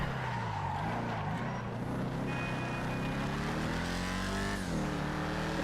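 The Vapid Firebolt ASP car in GTA Online pulls away with a continuous engine drone that climbs steadily in pitch through the gears, loud and up close, with no voices.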